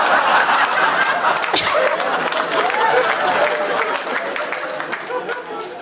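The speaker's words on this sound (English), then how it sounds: "that's where the clap is?" Comedy showcase audience at a stand-up set clapping and chuckling together, a dense continuous patter of applause mixed with scattered laughter, fairly close and gradually easing off toward the end.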